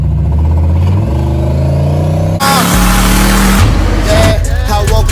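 An LS-swapped car with a GT45 turbo accelerating hard on a test drive, loud and close, the engine climbing through a gear, then a shift and a renewed surge, with music underneath.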